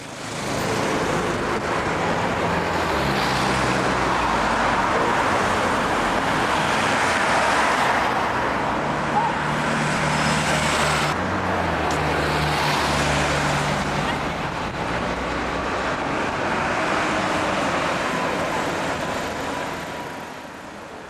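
London Routemaster buses, RT and RML types, pass in street traffic: a continuous far-off roar of engines and tyres swells and fades as the vehicles go by, with no voices.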